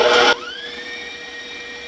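An electric mixer beats butter and coconut oil in a short, loud whirring burst, then cuts off, leaving a fading high ringing tone.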